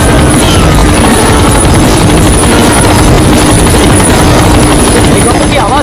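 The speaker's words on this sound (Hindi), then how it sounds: "हेलीकॉप्टर की आवाज" A helicopter's rotor and engine roar loud and close, a dense, unbroken wash of noise that holds steady throughout.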